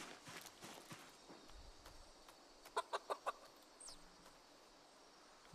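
Chickens in the survival video game Project Zomboid cluck quietly, with a quick series of four sharp clucks midway amid faint footsteps and soft clatter, all low in level with no voices.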